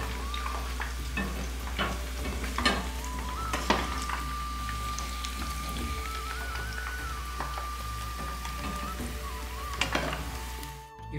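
Chicken pakora frying in hot oil over a high flame, a steady close sizzle with occasional stirring clatter, under a faint sustained tone and ending with an abrupt cut-off.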